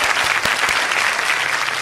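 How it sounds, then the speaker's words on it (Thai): A studio audience at a Thai talk show gives a burst of applause to welcome the guest, a thick, even wall of many clapping hands, loud and sustained with no talk over it. "ปรบมือให้แขกรับเชิญนิดหนึ่งครับ"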